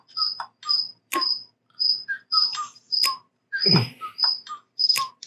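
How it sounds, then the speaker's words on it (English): High, repeated cricket-like chirps and whistles sound in evenly spaced bursts, close and clear, with brief silences between them. "That dude got crickets."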